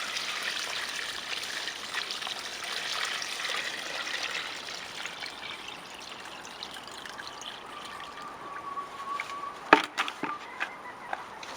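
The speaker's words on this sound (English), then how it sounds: "Now we're going to add some water from our water tank into here to fill up the rest of the bucket." Water from a garden water tank runs into a bucket of comfrey, a steady rushing trickle that softens partway through and ends with a few close knocks and clunks.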